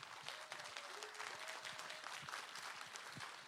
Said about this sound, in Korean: 여러분 다시 한번 추미애 전 장관님께 큰 박수 부탁드립니다.